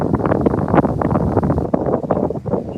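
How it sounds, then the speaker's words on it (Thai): Strong outdoor wind buffets the microphone in Finland, making loud, gusty low rumbles and thumps that rise and fall irregularly throughout. "จะบอกว่าลมแรงมากเลยค่ะ"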